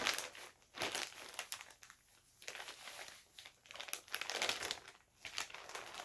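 A plastic bag crinkles and rustles close up in repeated handling bursts, loud, crisp crumpling that swells and fades several times, with no voices.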